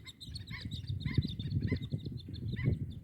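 Outdoors at a campsite in nature, a group of birds sends out a string of short, bright chirps, moderately close, over low rustling and background noise.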